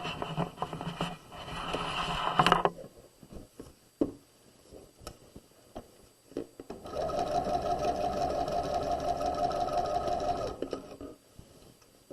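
Up close, a sewing machine stitches the curved crotch seam of pajama pants, first in a short burst and then in a longer steady run after a pause filled with quiet fabric handling.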